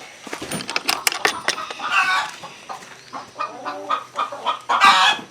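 Several chickens in a coop cluck and squawk close by, overlapping in bursts, with a louder squawk near the end.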